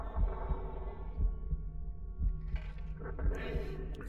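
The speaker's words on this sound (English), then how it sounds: "Oh, I hear, and there's a heartbeat and everything." Muffled, throbbing heartbeat from the video game Little Nightmares, pulsing steadily in low double thumps under a dark hum, with no one talking.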